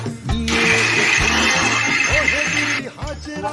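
A mixer-grinder runs in one short, loud whirring burst, coarsely grinding a spice paste for a vegetarian Bengali banana-flower ghonto. A voice speaks faintly before and after.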